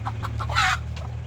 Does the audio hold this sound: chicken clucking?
yes